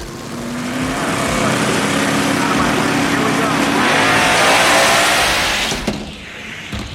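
Ford Pro Mod drag cars, a Mustang and a Thunderbird, roar loudly off the line and race side by side, a sustained howling engine blast that swells and then cuts away near the end, with an announcer talking over it.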